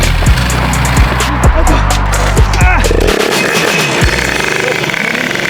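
A Rieju MRT Pro 100cc TPR Factory motorcycle engine fires up loud and close, sputtering in uneven revs before settling into a raspy idle.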